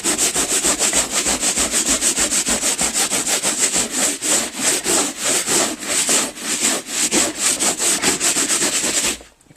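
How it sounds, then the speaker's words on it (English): A rock scrapes hard back and forth over Hawaiian kapa bark cloth, a loud, close, rhythmic rasping with about two strokes per second, steady for around nine seconds with no talking. "if you can rub a rock, and I'm not doing this gently for your benefit"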